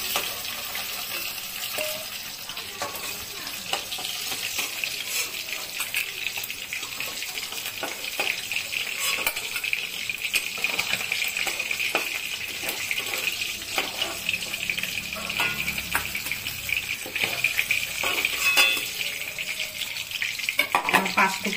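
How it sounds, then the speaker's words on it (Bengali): Katla fish pieces fry in hot oil with a continuous bright sizzle and crackle, steady and close throughout, with occasional spits and pops rising slightly toward the end. "এখন এই পিসটা ভাজা হোক, তারপরে মাছ ভাজাগুলো আমি উঠিয়ে নেব"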